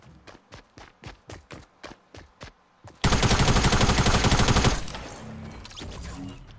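Fortnite gunfire: about a dozen evenly spaced single shots ring out, then a loud sustained burst of rapid automatic fire, which drops to quieter scattered sounds near the end.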